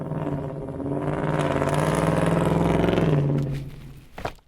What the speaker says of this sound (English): the only thing louder than this stereo is this true dual exhaust system